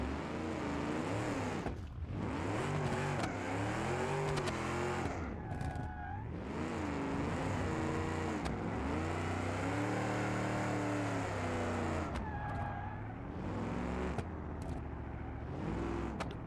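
A high-horsepower car engine with no suspension in the BeamNG video game revs hard and continuously, pitch sweeping up and down through repeated acceleration and shifts, loud and close with no talking.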